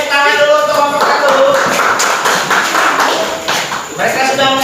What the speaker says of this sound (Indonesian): tepuk tangan dulu untuk Bapak satu